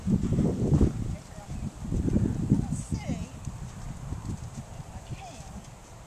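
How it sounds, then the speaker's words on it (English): A horse in a relaxed canter sends rhythmic hoofbeats across the ground, clearest in the first couple of seconds and then fading, while a riding instructor talks over them. "This is actually a very nice,"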